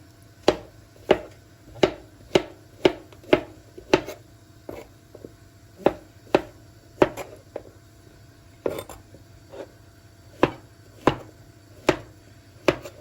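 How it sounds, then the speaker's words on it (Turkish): Steady knife chops of mushrooms on a cutting board, sharp taps in an uneven rhythm, close and clear with no talking. "Mantarımı böyle soydum, yıkadım, doğrayalım"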